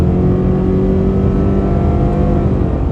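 A 2024 Subaru Crosstrek Premium's engine revs up under acceleration, a loud, close, steady droning hum heard from inside the cabin with no talking.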